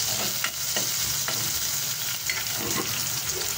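Chopped onion sizzles and crackles steadily in oil in a cooking pot, with soft scraping stirs breaking through the frying hiss at close range, no voices.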